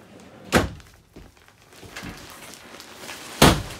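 A few hard wooden thunks of a drawer sliding shut in a travel trailer, one near the start and another near the end, with quiet rustling between them.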